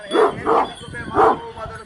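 Aksaray Malaklı dogs barking close by, several deep, separate barks with short gaps between them.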